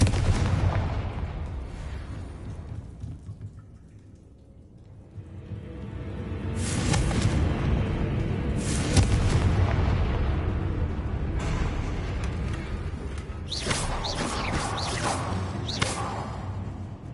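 Booming, crackling blasts from the Confringo fire spell in Hogwarts Legacy roll on loudly and continuously, with sharp whooshing bursts breaking through the sustained low rumble.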